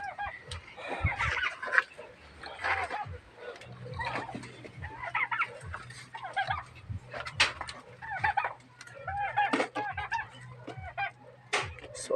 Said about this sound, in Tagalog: tag-uhaw na ni ato pabo mga katatay